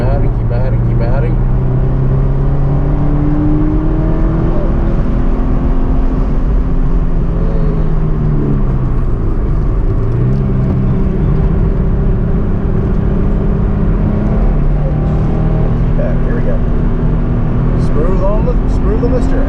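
A car on the Summit Point race track, its engine droning loud and continuous from inside the cabin as revs rise and fall through gear changes, with an instructor talking over it.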